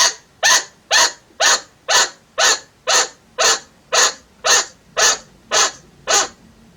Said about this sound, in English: if you hear your chinchilla making a very loud barking sound